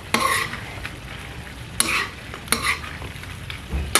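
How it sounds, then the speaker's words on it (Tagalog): Pakbet vegetables stirred in a sizzling pan, with a spatula scraping in quick irregular strokes and a few louder clanks against the metal over a continuous frying hiss. "I-mix natin"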